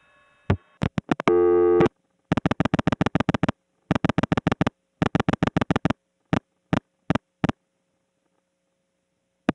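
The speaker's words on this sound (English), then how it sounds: "and then to a busy signal." Busy signal on a Gainesville, Georgia step-by-step telephone exchange in 1979: loud, regular interrupted tone bursts, preceded by brief clicks and a short buzzy burst, then fading to silence.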